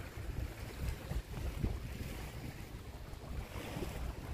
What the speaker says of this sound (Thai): แถวนี้คือบริเวณท่าเรือนะครับผม